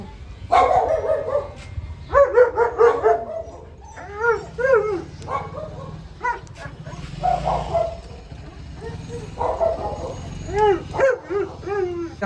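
A dog yips, whimpers and barks in repeated bursts, some howl-like, close by, with people talking intermittently in the background.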